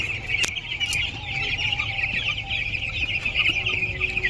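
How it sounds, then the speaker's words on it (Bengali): Young chicken chicks huddled together against the cold in a coop, keeping up a steady high chirping with occasional clucks, and a low background rumble underneath. "এই যে মুরগির বাচ্চা দেখো এক জায়গায় জড়ো হয়ে যাচ্ছে ঠান্ডার কারণে।"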